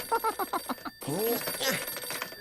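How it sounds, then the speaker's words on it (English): A cartoon telephone rings in quick, bright bursts that stop abruptly. Animated character vocal sounds follow right after the ringing. "Please excuse me while I answer my phone."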